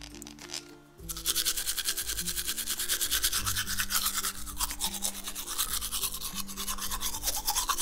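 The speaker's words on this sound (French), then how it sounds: "Et on va utiliser ta brosse à dents, pas celle du patient, bien sûr." A toothbrush scrubbing a toy baby doll's teeth in quick, regular back-and-forth strokes, close and scratchy, running steadily after a brief quieter start.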